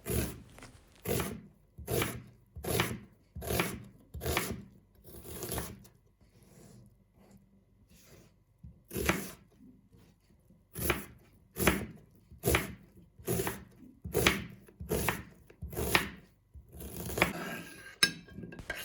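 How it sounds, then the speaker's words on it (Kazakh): An onion is chopped with a knife in a home kitchen: sharp, close, rapid strokes come in quick regular bursts of several cuts, separated by brief pauses, with no talking. "Ол үшін ең алдымен пиязымызды видеода көрсетілгендей турап аламыз"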